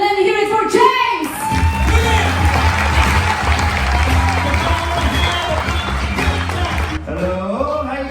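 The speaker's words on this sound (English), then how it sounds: "Please help me out and put those hands together for our first comedian." Audience on a cruise ship (NCL Aqua, inaugural sailing from Port Canaveral) greeting the first comedian at a comedy show with sustained applause and cheering, a loud dense crowd roar for about six seconds after a brief lead-in.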